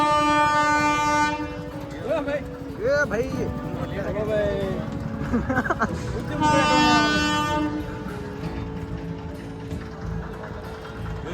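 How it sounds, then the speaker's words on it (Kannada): A train approaches with long, loud blasts of its horn that rise and fall, mixed with rumbling rail noise and clattering wheels, while people talk nearby. "ಟ್ರೈನ್ ಬರಾತೈತಿ."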